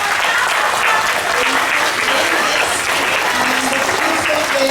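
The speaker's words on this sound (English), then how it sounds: "big round of applause to them" A school assembly audience applauds class 1E, loud, dense clapping from many hands that holds steady and unbroken from start to finish.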